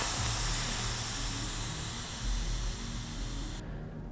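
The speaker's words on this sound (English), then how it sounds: "Take your 4mm Allen wrench and deflate the tire." Air hissing steadily out of a bicycle inner tube as the tire deflates, a loud close broadband rush that slowly weakens and then cuts off abruptly.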